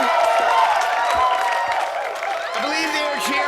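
A large convention crowd at the E3 gaming expo cheers and applauds continuously, with people talking close by over the steady roar.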